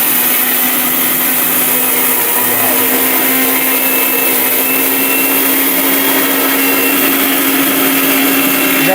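A Niyama 1200 W mixer grinder runs continuously at full speed, a loud, even motor whine with a steady hum and no pauses.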